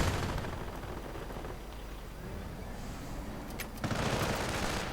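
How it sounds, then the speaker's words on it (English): A mortar round and gunfire sound in a war video game, a dense rumbling barrage of distant shots and blasts under a steady low roar, with a louder burst near the end. "Mortar round stopping one squad."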